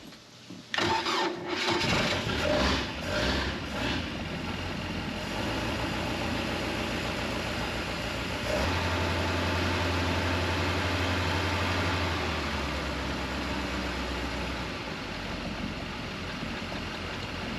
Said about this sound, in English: we'll fire up the engine.